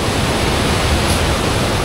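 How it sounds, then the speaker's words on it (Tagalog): Muddy water pours over Malubog Falls, a waterfall that drains into a nearby lake, making a steady, loud, close rush of broadband noise with no voices. "Yan ang Malubog Falls."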